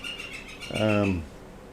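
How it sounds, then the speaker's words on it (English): An unidentified bird calls outdoors near a volcano in Iceland, a short falling, harmonic squawk-like call that rises above steady background noise for about half a second. "I hear some weird bird out there."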